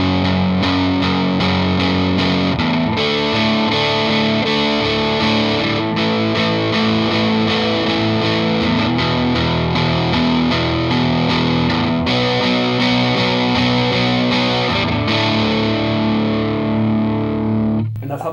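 Electric guitar through heavy distortion and effects plays the chorus of a song, with sustained, buzzing chords strummed steadily in rhythm at a loud, close level for the whole stretch.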